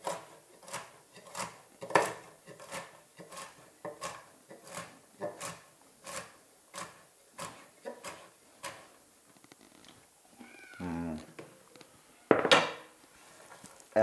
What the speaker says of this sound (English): So the grilled nuts here. Give them a rough chop.